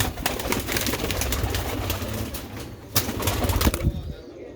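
Sialkoti pigeons coo and stir nearby, with brief wing flutters breaking through a dense, noisy backdrop, fairly loud and close throughout.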